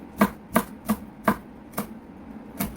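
A knife cuts bone-in slices of gizzard shad on a cutting board, giving six crisp, evenly spaced chops that ring out close and clear.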